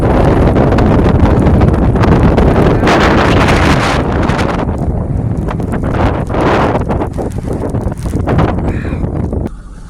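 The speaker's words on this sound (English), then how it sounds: "The waves are still coming in" Waves and strong wind at Little Beach in Edgewater during the aftermath of Hurricane Milton, a loud, constant roar with heavy wind buffeting the microphone and surf surging throughout.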